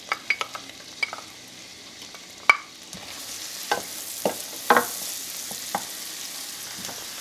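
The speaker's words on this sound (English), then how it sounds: "we're going to saute our onions and our celery until the onions start to soften and turn translucent" Sweet onion and chopped celery sautéing in butter, a soft steady sizzle with scattered sharp taps and scrapes of a utensil stirring the pan, close and moderately quiet.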